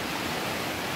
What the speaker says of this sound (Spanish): Y así está el río de Doña Paulita aquí en su casa.